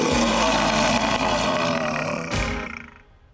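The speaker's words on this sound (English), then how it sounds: "It sounded just like a lion." A loud, sustained lion-like roar rumbles in a children's puppet comedy set in a shop, long and full-bodied, with a second swell near the end before it fades away. No one speaks.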